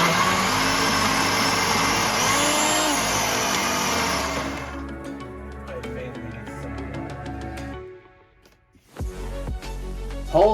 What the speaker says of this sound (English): I've put them into this blender, and we are going to blitz them now into a lovely sauce.